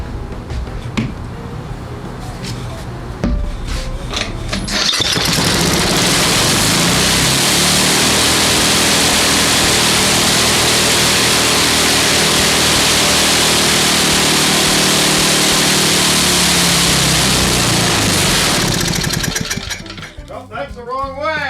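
An old 1970s Tecumseh small engine with points ignition roars loudly and steadily on two-stroke fuel for about fifteen seconds, its pitch rising and falling as it is adjusted, then cutting out abruptly.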